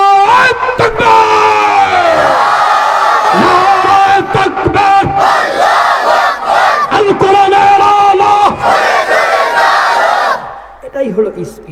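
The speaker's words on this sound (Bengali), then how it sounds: "এটাই হলো স্পিড, এটাই হলো অরিজিনাল তাকবীর" A large crowd at a religious sermon gathering roars the takbir call together, a loud sustained chant in unison that swells and repeats before cutting off near the end, leaving brief scattered voices.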